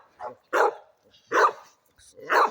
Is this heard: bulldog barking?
yes